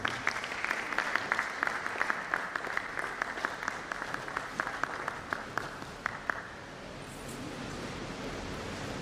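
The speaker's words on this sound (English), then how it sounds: "Please let us sustain the applause for our Vice Chancellor." An audience claps at a university bursary lecture, a dense, steady wash of applause that carries on for several seconds, then tapers off and fades into quiet room noise.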